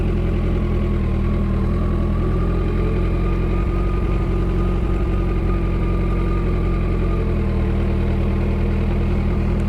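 A motorcycle engine hums steadily up close, a constant low-mid drone holding nearly even while the bike rolls along slowly on the clutch, with no talking heard.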